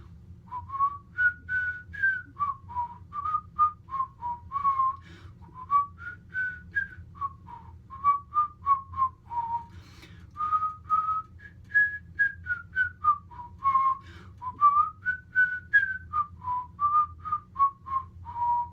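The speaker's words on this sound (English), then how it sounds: "I'll whistle to you and prove that I can now whistle" A person whistles a lilting melody alone, clear and close, with short rising and falling phrases repeated in a steady rhythm and brief pauses between notes.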